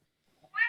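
A cat meows once, a short clear call near the microphone at the end of an otherwise quiet moment on a podcast call.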